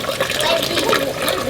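Water runs steadily over a batch of homemade butter as it is rinsed, a continuous close splashing and trickling wash throughout.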